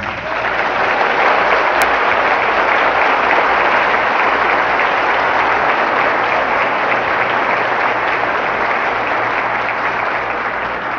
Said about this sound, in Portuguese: Eu queria pedir uma salva de palmas para as nossas mãezinhas.